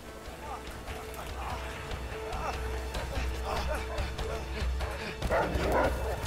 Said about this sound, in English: they released the hounds. Puppies! Those are Dobermans, too.